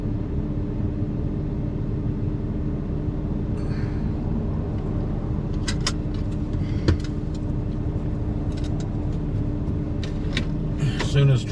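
Road traffic passes near Big Bend National Park in Texas, a steady low rumble of car engines and tires, close and continuous, with occasional higher clicks and rattles toward the end.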